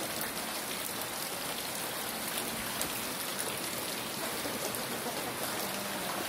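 Steady rain falls outdoors where farm ducks are kept, a dense continuous hiss of drops with no break and no voices over it.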